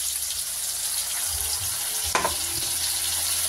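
Ground spice paste sautéing with flat beans in a pan gives a steady, close sizzle and hiss, with one brief scrape or clatter of the spoon partway through.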